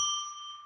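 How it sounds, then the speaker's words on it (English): A single ritual bell struck once, a clear sustained ring with bright overtones that decays slowly, loud and alone. "let's ring a bell 3 times, which I use to declare sacred space"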